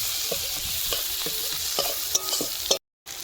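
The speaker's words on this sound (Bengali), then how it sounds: "পেঁয়াজ কুচিটাকে ভালোভাবে ভেজে নেবো একটু লাল লাল করে" Chopped onions fry in hot oil in a village kitchen, a continuous sizzle broken by stirring scrapes and taps, with a brief cut to silence near the end.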